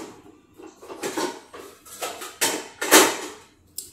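A cake pan is taken out and handled in a kitchen: a series of clattering metallic clanks and scrapes, close and uneven, with a sharp clang near the end.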